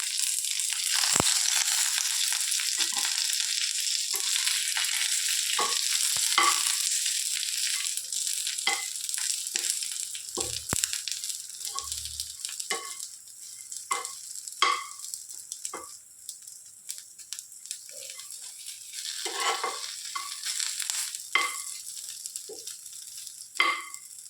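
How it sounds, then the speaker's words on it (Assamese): Fried okra tossed into hot oil with dried red chillies and curry leaves, a steady close sizzle of frying running throughout, punctuated by repeated scraping and stirring knocks of a spatula in the pan. "ইয়াতে ভাজি লোৱা ভেন্দিখিনি মই দি দিম এতিয়া।"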